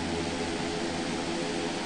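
A Harrier jet in a flight combat game over the Malvinas gives a steady, unbroken roaring hiss of engine and wind, loud and constant throughout with no other sounds.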